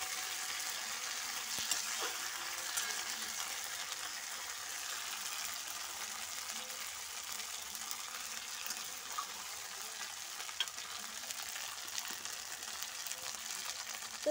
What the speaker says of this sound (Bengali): তো এইটা দিয়ে আমি এই পেস্ট দিয়ে কিছুক্ষণ নেড়ে নেব।